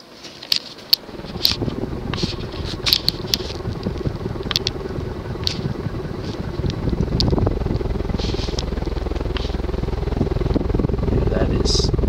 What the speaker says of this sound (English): You hear it has a bit of a startup whine.